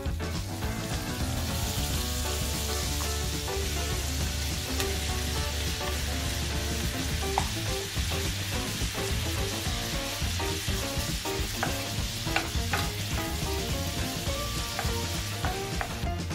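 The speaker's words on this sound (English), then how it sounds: "Now add all the chicken pieces into the frying pan." Chicken breast pieces sizzle loudly in a hot frying pan, constant crackling and spitting with occasional stirring clatter, no talking.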